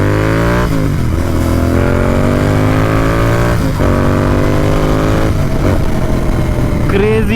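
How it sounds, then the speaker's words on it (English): A Royal Enfield Interceptor 650 motorcycle accelerates hard and close, its engine note climbing steadily through the gears with brief dips at each shift before revving up again. "Crazy torque. I love this machine here, seriously."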